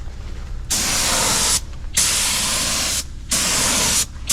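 A spray gun lays a coat of metallic flake paint onto a camper van frame in blue custom metallic Rust-Oleum, as loud, steady hissing bursts. Four spray passes are separated by short pauses.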